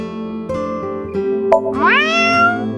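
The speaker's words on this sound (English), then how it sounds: "If you meow at a lucky cat statue, happiness will come your way." A single drawn-out meow, rising in pitch, is directed at a lucky cat statue in the video game AI: The Somnium Files – nirvanA Initiative. It sounds clearly over a low, steady background hum.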